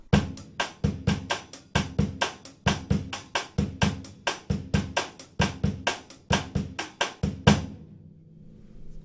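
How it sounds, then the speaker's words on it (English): Samba drum pattern in 2/4 with steady sixteenth notes on the hi-hat over low drum hits, a crisp, evenly driving rhythm played close, ending with a ringing decay. "now if I add 16ths on the hi-hat, if we're in 2/4, it sounds like this"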